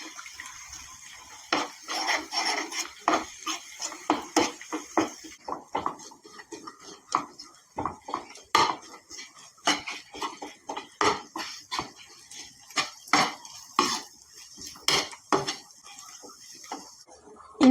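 Eggs being beaten in a bowl for chicken rice: a rapid, irregular run of close metal-on-bowl clinks and taps that keeps going the whole time, with no talking.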